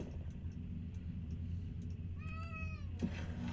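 A pet cat gives one short, clear meow partway through, over a steady low background rumble and a few faint ticks.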